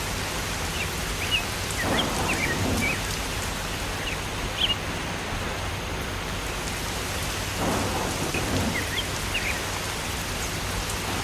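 In a cartoon storm, steady rain pours down while two deep rolls of thunder rumble in, one around the two-second mark and another later, with scattered drips over the constant hiss.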